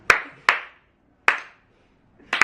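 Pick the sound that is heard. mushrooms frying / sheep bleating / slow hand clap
slow hand clap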